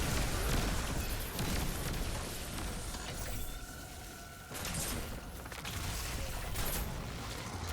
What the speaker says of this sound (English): I'm just going to toss both my nades.